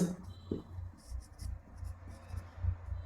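Writing on a board during a secondary-school maths lesson on sets and functions: a faint, scratchy stroke-by-stroke scraping in short bursts, close by, with no talk.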